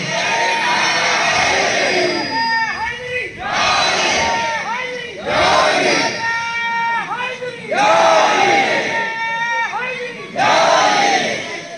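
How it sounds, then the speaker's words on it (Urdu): A crowd chants religious slogans in unison, five loud roaring bursts that swell and fade in a steady rhythm, the voices massed and close, with a leading voice calling between them. "پنجتن کے 5 نعرے"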